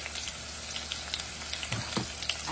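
A whole white onion sizzles in a hot pan with chilies and curry leaves while duck curry is cooked, an even, close frying hiss with faint crackles throughout.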